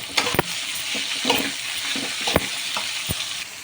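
Brinjal pieces sizzle and fry in a pan over a high flame, with a steady broadband crackle and several sharp clicks and scrapes of stirring against the pan.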